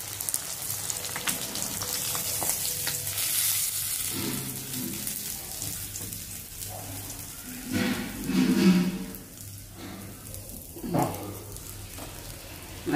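Chapala fish fry sizzling in hot oil, a steady broadband crackle that holds throughout with a few louder bursts of spitting, close and alone with no voices.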